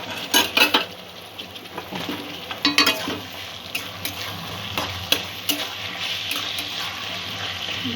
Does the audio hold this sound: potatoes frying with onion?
yes